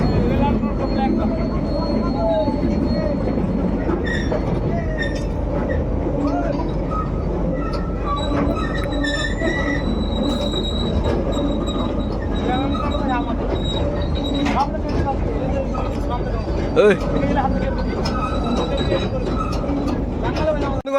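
Heavy rail machinery rumbles and clanks steadily, with metallic scraping and occasional squeals as long steel rail panels are unloaded from a train at the foot of the Ahiron rail bridge, voices faintly mixed in.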